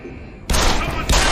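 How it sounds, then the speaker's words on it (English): Loud gunfire in the Deus Ex: Human Revolution video game, a quiet lull giving way to a sudden dense burst of shots that carries on, briefly eases, then surges again. "Someone's shooting!"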